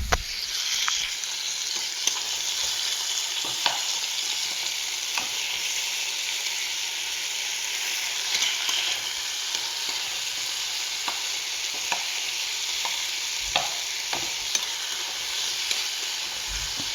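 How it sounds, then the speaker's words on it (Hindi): A paneer and peas dish with a pinch of salt is stirred and mashed in a hot pan, giving a steady, close sizzle with occasional soft scraping clicks throughout. "इसे हमें अच्छे से चला लेना है और मैश कर देना है"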